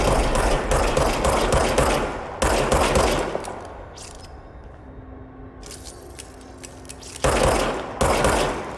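Loud machine-gun bursts in the video game Control: two long bursts of rapid fire, a quieter stretch with scattered shots, then another sustained burst at close range.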